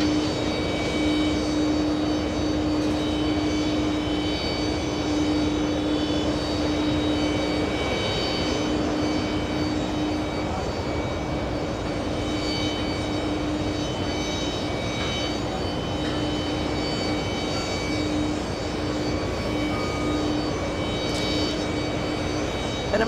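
An Emirates A380 taxis toward its gate at JFK, a steady engine whine and hum holding at moderate level, with a sustained tonal drone running beneath the broad airport noise.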